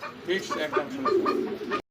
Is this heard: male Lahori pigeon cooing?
yes